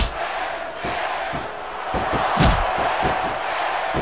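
Wrestling arena crowd in the game Smackdown Vs Raw 2006, a constant roar of cheering voices broken by several sharp slams and thuds, with one louder impact midway.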